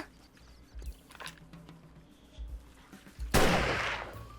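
A firearm in the video game 7 Days to Die fires one loud, sharp shot near the end, preceded by quieter thuds and clicks, with a short ringing decay after the blast.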